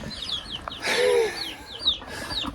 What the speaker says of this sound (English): but I got some chicks in a bucket.